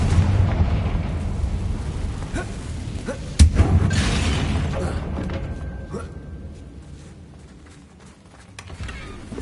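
A Confringo explosion spell cast in the video game Hogwarts Legacy, a deep booming blast with a sharp burst near the middle that rumbles and fades slowly over the game's background sound.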